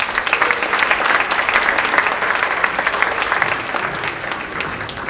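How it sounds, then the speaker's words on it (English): An audience at a high school senior awards night gives a round of applause, a sustained bright patter of many hands clapping steadily throughout, close and fairly loud. "So please, let's do one more round of applause."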